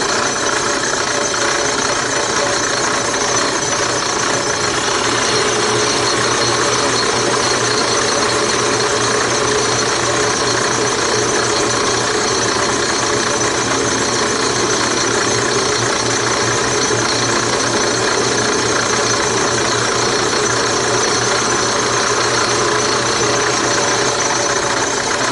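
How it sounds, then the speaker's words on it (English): Wood being bored with a 5/8-inch Forstner bit while cutting the back window of a wooden toy: a steady, unbroken motor whir and grinding hum holds for the whole stretch, fairly loud, with no talking. "Now I'll drill the back part of the window using a 5/8 Forstner drill bit"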